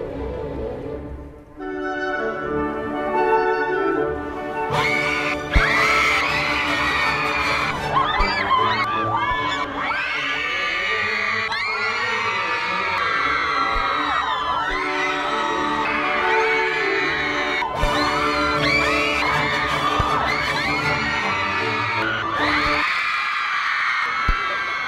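A big crowd of fans screams and yells nonstop, with shrill whoops and shrieks rising and falling in loud waves for the whole stretch.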